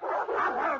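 A snarling guard dog barks in a 1978 radio drama, a short, dense burst heard alone and muffled by poor-quality, noisy audio.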